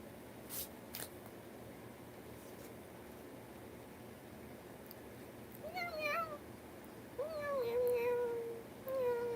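A cat meows several times in the second half, with rising and falling tonal calls over a steady background hum of a live room; a few clicks come earlier.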